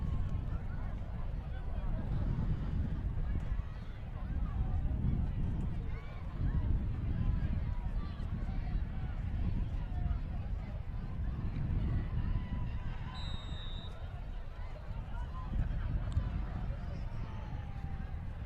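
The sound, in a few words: strong wind blowing across the football field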